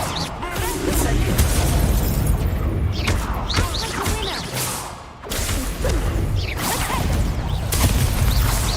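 Incendio fire-spell blasts in Hogwarts Legacy combat, a run of loud booming bursts and whooshes that repeat every second or so, mixed with thuds and crashes, with a short lull midway.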